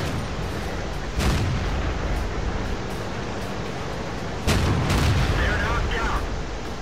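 Two heavy tank cannon blasts ring out in a World of Tanks battle, each a loud booming crack with a short rumbling tail, spaced a few seconds apart over a constant mechanical drone.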